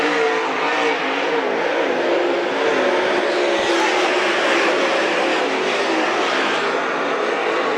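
Dirt track race cars roar down the backstretch at Bedford Speedway, a dense, continuous engine drone from the pack holding steady and loud for the whole stretch, with no break or pause.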